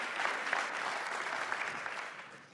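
A crowd at a New Hampshire campaign town hall in Exeter applauds warmly, giving a dense, even burst of clapping that fades toward the end.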